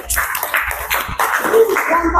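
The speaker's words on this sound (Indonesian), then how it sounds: "kasih aplaus. Tepuk tangan" Classroom clapping as students applaud a group presentation; a brief burst of hand claps mixed with chatter and voices, fairly close and uneven.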